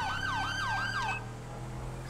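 A police siren in Grand Theft Auto V, on a 2018 Chevy Tahoe K9 unit, wails in rising and falling sweeps, loud and steady, then cuts off halfway, leaving a low vehicle hum.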